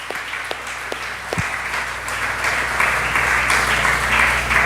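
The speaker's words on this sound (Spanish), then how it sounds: "Denle un aplauso fuerte al Rey de Reyes." A church congregation applauds loudly and steadily throughout, a dense wash of clapping that swells slightly toward the end, with no speech over it.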